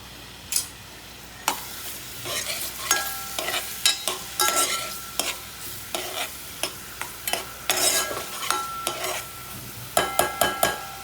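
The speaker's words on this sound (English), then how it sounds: "Once the ghee is a bit warm, we'll add our condiments, the clove, the elaichi, and now adding the chopped onions" Chopped onions sizzle in warm ghee with clove and cardamom (elaichi), a steady frying hiss broken by repeated close spoon scrapes and stirring clatter against the pan, with no talking.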